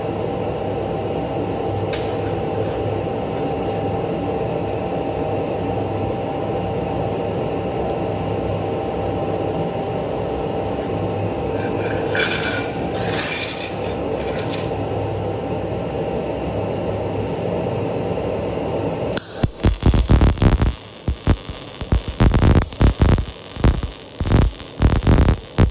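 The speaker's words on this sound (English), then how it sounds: "Now I'm going to put on my helmet and I'm ready to weld." Arc welding starts after a long, steady electrical hum, then breaks into loud, irregular crackling and sputtering bursts that continue close up to the end.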